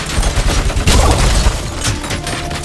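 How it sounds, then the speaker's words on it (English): A heavy machine gun fires in the Robocop video game: loud, dense bursts of rapid shots with booming impacts, continuous and close. "I like the heavy machine gun"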